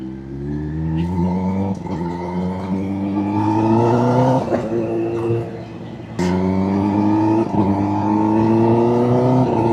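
A Kawasaki ZX-10R sport bike accelerates hard on an open road, its engine note climbing in steady pulls broken by quick gear shifts, loud and close throughout with no talking.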